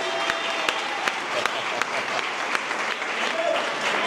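Congregation applauding at a church gathering, a steady wash of clapping from many hands lasting throughout with a few sharper claps standing out, while voices talk faintly beneath.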